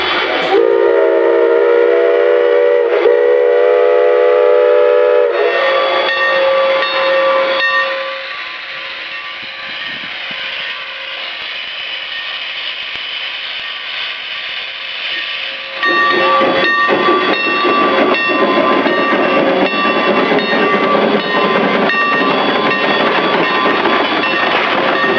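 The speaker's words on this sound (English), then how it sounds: "Finally, with everyone on board, the train is ready to go." A steam train pulls away with a loud whistle blast, then rumbling, hissing and clanking that build steadily as it gets moving, close by.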